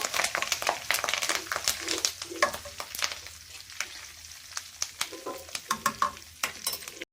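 Tempering spices crackle and fry in hot oil, with a steady sizzle and sharp pops, while a utensil scrapes and stirs the pan.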